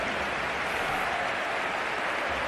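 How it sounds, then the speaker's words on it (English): Stadium crowd at the Santiago Bernabeu during a Real Madrid versus Deportivo La Coruña football match, applauding a substitution as a dense, continuous wash of clapping and crowd noise with no individual voices standing out. "And it's a well-deserved round of applause for Gareth Bale as Lucas Vazquez comes on."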